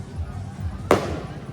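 A single sharp firecracker bang goes off during a street parade at the Pulilan Kneeling Carabao Festival, one loud crack over a steady background murmur of the crowd.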